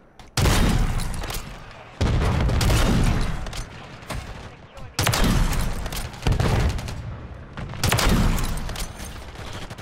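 Four heavy MORS rifle shots in Modern Warfare III multiplayer, each a loud booming crack followed by a rolling tail, spaced about two seconds apart.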